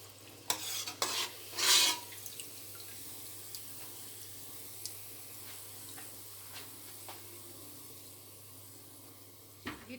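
Buñuelos drop into hot oil in a fryer, with a few splashy bursts and bubbling at first, then quiet, faint crackling sizzle and sporadic ticks for the rest.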